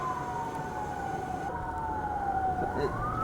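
Emergency vehicle sirens wail through an Iowa City street at night, a steady rising and falling tone heard at moderate distance over a busy background hum, with the pitch sliding up near the end.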